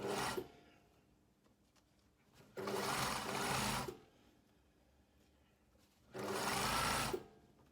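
A sewing machine runs in two loud, steady bursts along a box blazer's shoulder seam, finishing with a short back tack. Quieter handling of the fabric fills the gaps between the bursts.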